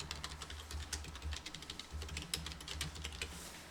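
Someone types a URL on a computer keyboard, producing a quick, close run of light key clicks with short pauses, alone and fairly quiet.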